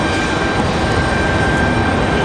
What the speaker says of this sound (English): And that departure was United 2288, Boeing 737-800 headed back to Denver.